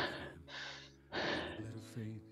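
Heavy, audible breathing from an instructor during a live fitness class, a series of loud close gasping inhales and exhales in quick succession.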